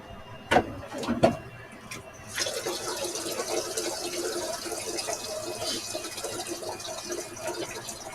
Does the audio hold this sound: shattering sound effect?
no